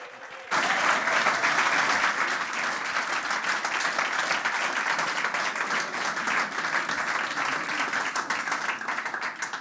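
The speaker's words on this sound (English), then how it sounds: "I'm going to ask you a big round of applause for Benjamin Kaiser." Audience applause welcoming a speaker, starting abruptly after a faint moment and continuing as a loud, sustained, even round of clapping from a large crowd for nearly ten seconds.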